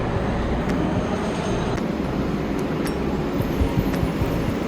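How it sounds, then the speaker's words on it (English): A MARTA train at a station, heard as a loud, steady rumble of rail noise with faint metallic clicks throughout. No voices can be heard. "So this is Ayan's first look at the train"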